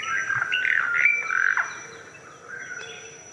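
Birds chirp and call in a forest, with several whistled, sliding tweets up close and a faint steady high insect-like tone beneath, the calls thinning out toward the end.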